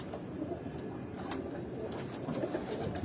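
Breeder pigeons coo softly and continuously amid steady background noise, with a few brief sharper sounds, and no talking.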